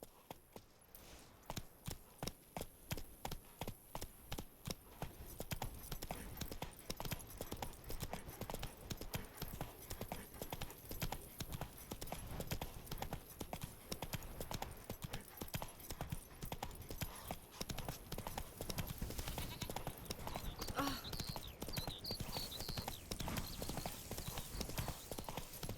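Horse hooves clip-clopping in The Witcher 3, a fast, steady rhythmic gallop of close hoofbeats that runs the whole time, with faint background ambience and no clear talk.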